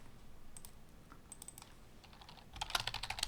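Soft keystrokes on a computer keyboard come in scattered taps, then a quicker, louder burst of typing near the end, close and quiet with no talking.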